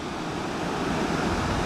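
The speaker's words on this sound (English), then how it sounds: "Mini waterfall, beautiful," A steady, dense rush of water from a small waterfall and a river running along a valley in the Central Brecon Beacons, loud and continuous with no pauses.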